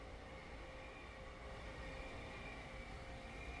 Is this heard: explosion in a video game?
no